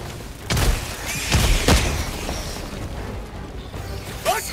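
A grenade goes off in the game Helldivers 2 with a deep booming burst, followed by a couple more heavy thuds and rumbling debris against a loud battle din.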